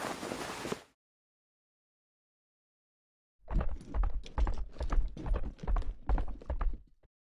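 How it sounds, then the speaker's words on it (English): Horse hooves approach in the fantasy video game Black Beacon, a run of steady clip-clop beats that builds in loudness and ends abruptly, following a short burst of noise and a pause of silence. "A swift horse is approaching,"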